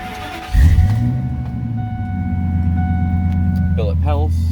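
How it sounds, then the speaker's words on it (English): Deep, steady exhaust rumble from a lifted 2000 Ford Excursion, a sharp rev at the start settling into a loud, even idle, with a brief voice near the end. "Exhaust sounds great."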